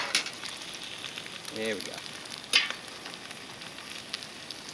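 Paprika lime salmon sizzles steadily in a hot pan, a soft continuous crackle with a few louder pops, while a person speaks briefly nearby.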